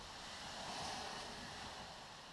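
Rain falling outside a workshop where a rusty vehicle frame is being welded, a steady broadband hiss with no distinct drops, even and unbroken throughout.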